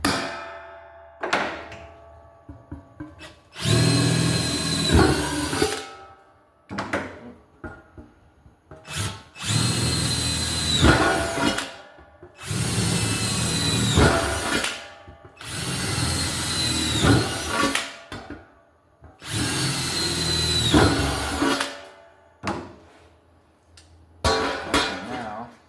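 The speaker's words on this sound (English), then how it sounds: "Drill that pilot." A power drill bores a pilot hole during a DIY VersiFire kit build, running in five loud whirring bursts of several seconds each, with brief pauses and occasional thunks between them.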